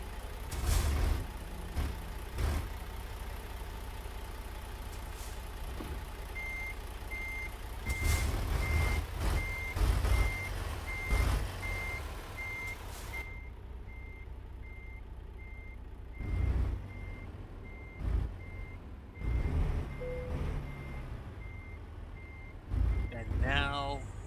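A heavy truck backs in at night, its reversing alarm sounding a steady run of evenly spaced beeps over a rumbling engine, with occasional air-brake hisses and clunks and someone talking intermittently.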